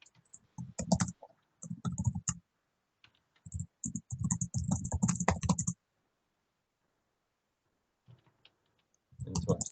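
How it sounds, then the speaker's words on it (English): Typing on a computer keyboard, heard as bursts of rapid clicking keystrokes broken by quiet pauses, close and fairly loud, with a long silent stretch before the typing resumes. "please do excuse my typing."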